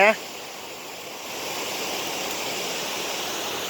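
A forest stream flows in a steady, broadband rush of water, close and continuous, after a brief opening sound.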